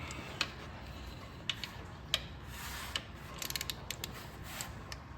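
Torque wrench clicking as an 8mm bolt on a Kawasaki KLX300R motorcycle is tightened to spec; a run of sharp, distinct mechanical clicks, some in quick bursts, close up over steady background hum, with no talking.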